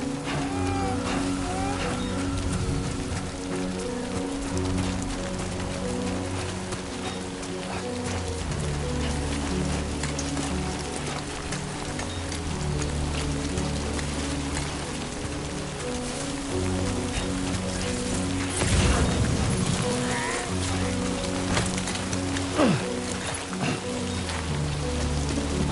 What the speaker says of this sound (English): Great. Rain. Gotta move.